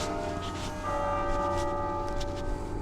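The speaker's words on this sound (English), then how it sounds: "the church bells have just rung for 1:30 p.m." Church bells in York ring out the hour on a cold, windy spring afternoon, a steady sustained peal with overlapping tones that hums continuously without pause, with wind and outdoor ambience beneath.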